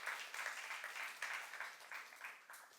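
A church youth congregation claps during a sermon, a faint but steady roomful of applause with soft pulsing swells throughout.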